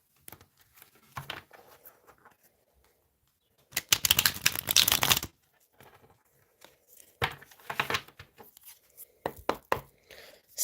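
Tarot cards being shuffled, bursts of crisp riffling and flapping in a quiet room, one long shuffle followed by several shorter, softer bursts with pauses between.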